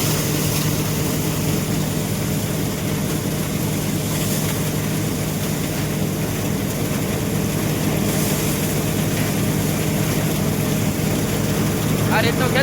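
A farm thresher runs steadily in a field with a tractor nearby, giving a loud, continuous mechanical drone with a low engine hum that holds unbroken throughout.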